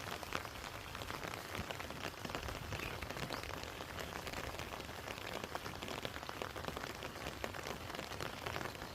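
Rain falls steadily over a farm plot of jute and radish greens, a soft, even patter of drops that stays faint and constant with no talking.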